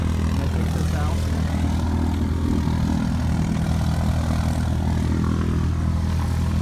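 Another light aircraft's propeller engine runs nearby during a preflight check of a 2011 Cessna light sport aircraft, a loud, steady droning roar that continues without a break and buries any speech.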